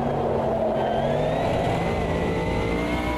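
GT3 Gen 1 race car in the Automobilista 2 racing game, a loud, steady engine drone with rising revs throughout, close and continuous, with no voices.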